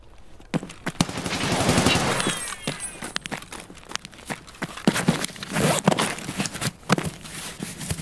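Rapid bursts of gunfire from an Escape From Tarkov firefight, with sharp repeated shots in uneven clusters over a noisy, close-miked game soundscape with footstep-like shuffles between volleys.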